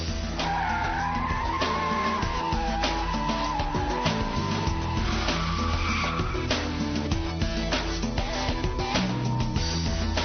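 A BMW Z3 M Roadster drifts in a power slide, its tires squealing continuously over a loud, revving engine; the skid wavers in pitch and stays close and sustained throughout.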